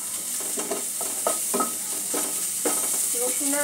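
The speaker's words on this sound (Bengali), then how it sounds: "সামান্য একটু ভেজে নিচ্ছি।" Garlic and ginger fry in white oil in a hot kadai, a continuous close sizzle marked by repeated rhythmic scrapes of a spatula stirring the pan.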